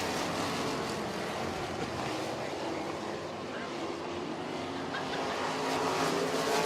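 Racesaver sprint cars roar around a dirt oval in a feature race, a loud, continuous engine drone with crowd and announcer voices mixed underneath throughout.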